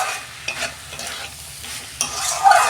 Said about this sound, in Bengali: আমি ভালো করে আর একটু কষাবো